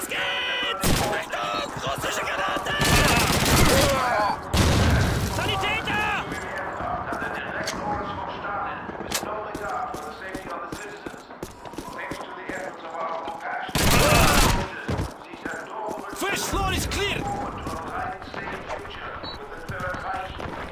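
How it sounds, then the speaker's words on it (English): Gunfire in the video game Call of Duty 2, with repeated loud rifle shots and bursts amid battlefield noise, heard under frequent talking. "adamın kafasına sıkıyorum"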